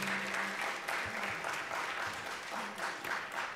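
An audience at a family music night applauds with steady, dense clapping that holds throughout, with a few faint voices mixed in.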